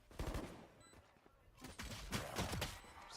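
Rapid gunfire in Valorant during a pro esports match, with bursts of shots and impacts over several seconds, loud and close, mixed with other game effects.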